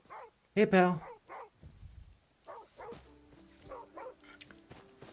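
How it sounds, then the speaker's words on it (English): Dogs bark in the video game Where Winds Meet, several sharp close barks and yips in short bursts, one loud and harmonic, interleaved with someone talking and a faint musical tone. "What's with these dogs?"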